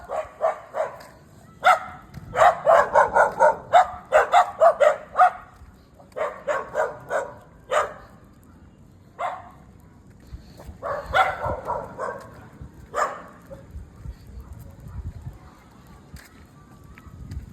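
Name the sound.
dog barking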